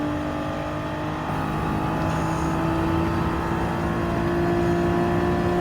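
Nissan GT-R in Gran Turismo 7 accelerating hard, a loud, steady turbocharged engine drone with rising revs and strong harmonic whine, heard close and continuous throughout with no talking.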